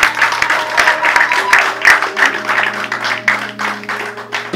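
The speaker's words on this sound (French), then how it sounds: "Acclame toi-même parce que tu mérites cette grâce." A congregation at a Christian worship service clapping and applauding, dense and loud with rhythmic claps close by and voices mixed in.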